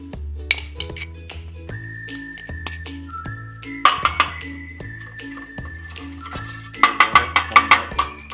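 Ghee is rubbed onto a metal plate, with light dish clinks, including a quick burst of clattering taps near the end, heard over a loud whistled melody with music.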